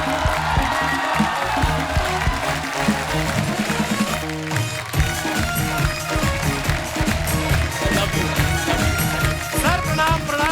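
A studio audience applauds and cheers to welcome comedian Tiku Talsania on stage at a comedy show, with loud sustained clapping mixed with band music and voices.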